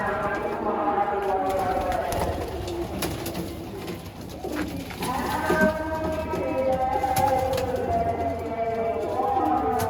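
Pigeons coo and flutter close by, with soft wing flaps and scuffling, while a person talks over the birds throughout.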